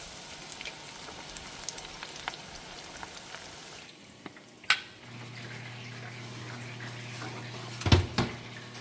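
Thick battered fish pieces fry in oil, a soft close hiss and gentle bubbling that settles into a steady low hum, with a couple of sharper knocks near the end.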